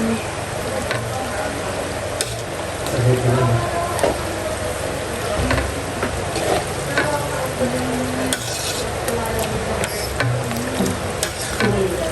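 Spaghetti sauce being stirred in a pan, with soft scraping and a low sizzle running steadily underneath, close by, with faint background voices and household noise.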